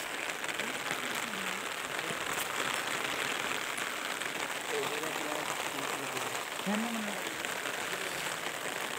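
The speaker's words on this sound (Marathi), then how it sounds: "पाऊस तर खूप चालू आहे" Heavy monsoon rain pours down over a village, a dense, unbroken hiss across the whole stretch, with faint voices occasionally underneath.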